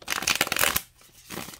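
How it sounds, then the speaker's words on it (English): A tarot card deck being shuffled by hand, a dense riffling flutter for under a second, then a short pause and a softer second burst of card noise, close and alone. "I suck at shuffling."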